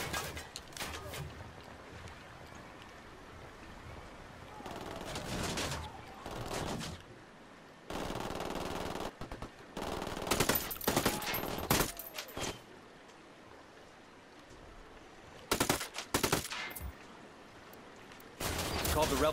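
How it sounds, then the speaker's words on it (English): Gunfire in the video game Ghost Recon Wildlands, with bursts of rapid automatic shots and scattered single shots in several separated flurries, while players talk over the action. "Someone shooting at us."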